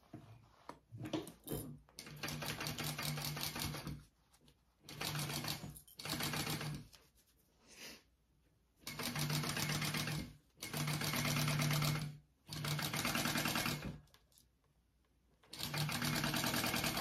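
A sewing machine stitches a zipper onto a crossbody bag panel in bursts of rapid, steady mechanical whirring, several runs of one to three seconds separated by short pauses, close and clear with no talking.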